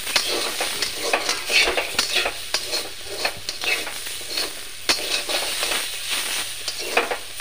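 Bottle gourd peel frying in a pan, stirred with a utensil: steady close sizzle broken by repeated scraping strokes and light metallic clinks at an irregular rhythm, with no talking.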